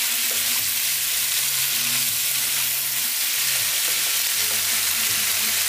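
Cabbage and chicken stir-frying uncovered in a pan on near-high heat, giving a loud, dense, continuous sizzle with faint crackles and no voices.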